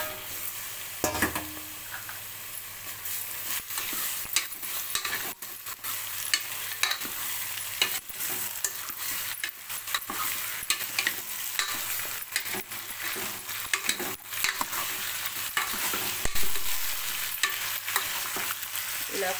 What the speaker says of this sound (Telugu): ఇప్పుడు మనం తీసుకున్న మటన్ వేసుకుందాం